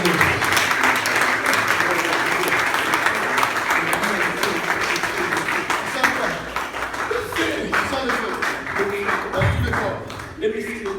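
Sustained applause from a church congregation acclaiming the Lord, steady clapping filling the room for several seconds with voices over it, thinning slightly toward the end.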